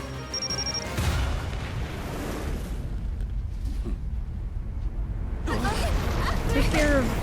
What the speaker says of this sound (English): Detonates an explosion right next to her.